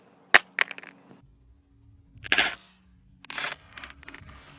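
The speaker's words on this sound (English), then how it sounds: "I'm going to try and drop it face down, see if it would crack." A Samsung Galaxy S6 Edge dropped with its rear glass facing down onto the ground gives a sharp close clack, a quick second tap, then a louder rattling impact and a softer scuffing clatter as it settles.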